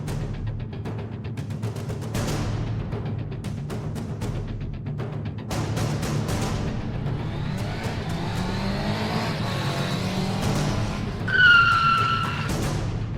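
Dashcam traffic noise on a bridge, with a steady road rumble and passing vehicles, rises into a sharp skid and impact as a wrong-lane motorbike crashes into the car near the end.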